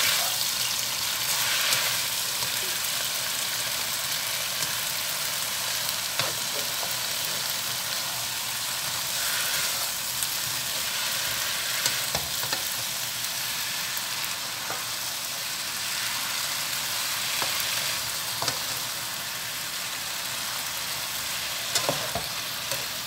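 Emperor vegetable sizzles in a hot wok with light soy sauce, a loud, continuous close frying hiss with occasional clinks and scrapes of stirring throughout.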